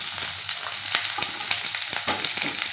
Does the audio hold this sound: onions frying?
yes